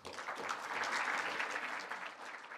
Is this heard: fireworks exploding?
no